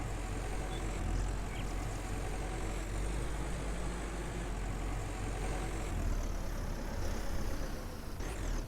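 A tractor engine idles in the Farmer's Dynasty farming video game, a steady, low, unbroken rumble with a continuous drone, close and constant, with no talking.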